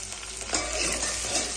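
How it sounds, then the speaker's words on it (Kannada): Onions frying in hot oil in a pan for brinjal curry, a steady close sizzle with a brief stirring scrape partway through, no voices. "ಸ್ವಲ್ಪ ಫ್ರೈ ಆಗಲಿ"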